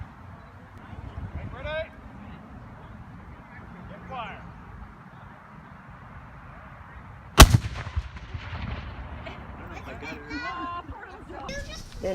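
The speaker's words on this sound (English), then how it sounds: "The festivities began with cannon fire." A single cannon blast booms out at an outdoor museum event, loud and sharp after a stretch of quiet crowd murmur and chatter, its echo trailing off under voices and children talking.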